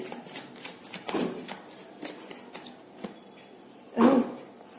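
Tarot cards being shuffled close by in soft bursts of riffling and sliding paper, with a louder flurry near the end and no speech.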